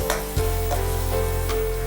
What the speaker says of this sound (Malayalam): തേങ്ങ ചിരകിയത് 1 കപ്പ്, അതും കൂടി വറുത്തെടുക്കുക.